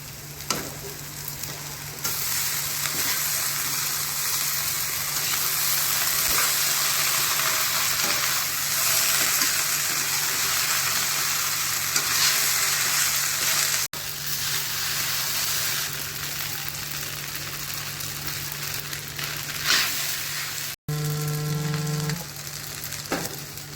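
Boiled pasta tossed into a hot pan for masala pasta sizzles and fries in a long, steady crackle, with stirring scrapes and a short break near the end.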